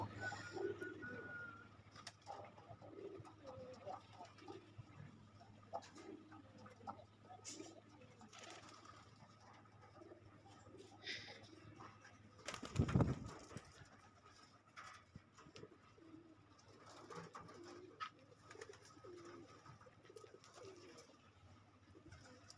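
Pet pigeons cooing nearby in a loft, soft repeated throaty coos over a low steady hum, with a brief louder rustling burst partway through and no speech.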